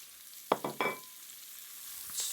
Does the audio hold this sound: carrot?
yes